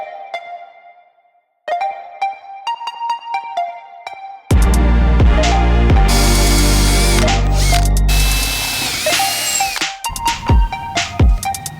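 Power drill boring holes for nuts in a camper van panel, a loud sustained whine with a high-pitched shriek as the bit bites, preceded by lighter mechanical clicking and ending in short bursts.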